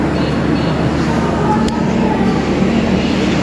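Steady, loud rumble of a passenger train running, heard from aboard a carriage on a long-distance trip from Durgapur to Chennai. The rolling noise is continuous and even throughout, close and enveloping, with no clear voices.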